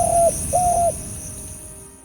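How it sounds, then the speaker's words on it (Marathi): A dove calls in hill forest at midday: two drawn-out hollow coos, the second longer, close and clear against a quiet background, then silence. "कुटुरगा, कवडा यांच्यासारखे पक्षी असा ताल धरून जंगलाची गंभीरता वाढवत असतात"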